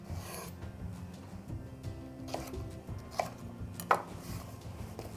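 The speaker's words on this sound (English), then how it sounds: "So I'm just going to take the pepper and cut it into chunks like that." Knife cutting a bell pepper into chunks on a board, quiet scraping and rasping strokes with a few sharper taps toward the end, close and soft, no voices.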